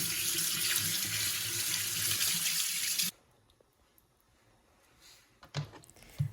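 Mackerel being rinsed under a running kitchen tap: a loud, steady gush of water for about three seconds, then it cuts off, leaving quiet handling noises and a few faint knocks.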